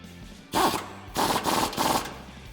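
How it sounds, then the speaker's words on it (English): An impact or ratchet tool tightening a lower control arm bolt with a 21 mm socket on a 2014-2020 Ford F150, several loud rattling bursts in a row, close up with short pauses between them. "next we're gonna grab our 21 socket and tighten down that lower control arm"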